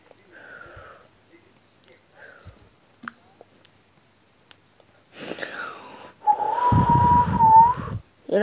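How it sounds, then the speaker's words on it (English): A person gives a short, wavering whistle near the end, loud and close, after quieter breathy sniffs and small handling noises. "You like my whistle?"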